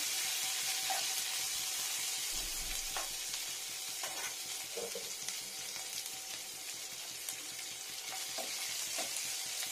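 Garlic and slit green chilies sizzle in oil in a pan, a steady close hiss of frying with occasional stirring scrapes and small pops, no talk.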